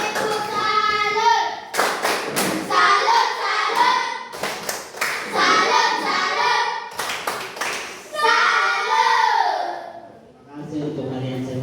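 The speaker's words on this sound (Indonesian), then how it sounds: "Tepuk salut dulu untuk semua." A classroom of children does a tepuk salut, the rhythmic salute clap, in bursts of sharp, loud hand claps close by, with young voices speaking and chanting between the claps.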